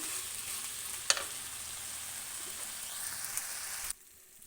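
Tomatoes frying in a pan make a continuous soft sizzle with a few sharp pops and crackles, then cut off abruptly near the end, with no talking.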